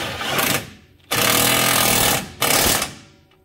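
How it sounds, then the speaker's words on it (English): Pneumatic swivel impact wrench tightening steering rack bushing bolts on a car: three loud, sustained rattling hammering bursts, close up, separated by brief pauses. "Using this with a swivel impact."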